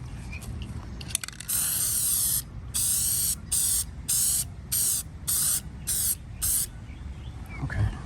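Aerosol spray paint hisses in about seven short, loud bursts with brief gaps between them, coating bolts and parts from a 1950s Fairbanks Ward drill press, close up and with no voices.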